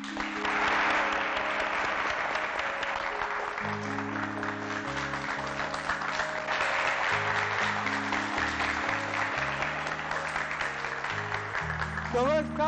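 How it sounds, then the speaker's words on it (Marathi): Audience at a Ganesh festival show claps steadily throughout, a dense continuous crackle of many hands, with shouting voices mixed in and background music tones underneath. "ते टाळ्या वाजवतात आणि आरडाओरडा चालू केलं"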